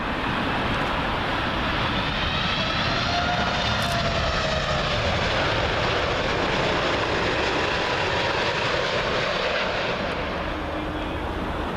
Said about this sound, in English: next arrival in WestJet 787 Dreamliner. All the way from Vancouver.